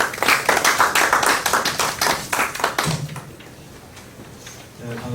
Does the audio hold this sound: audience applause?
yes